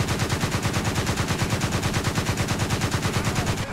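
Twin 35mm autocannons of a Gepard anti-aircraft tank in War Thunder, a loud continuous rapid burst of evenly spaced shots for several seconds before cutting off abruptly.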